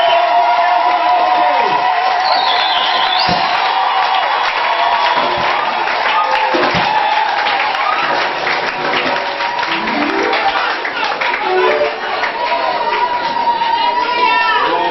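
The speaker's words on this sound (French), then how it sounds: "applaudissez le Seigneur." A church congregation applauds and cheers during a pastor's installation service, loud and sustained with steady clapping, whoops and shouts layered together, and voices calling out throughout.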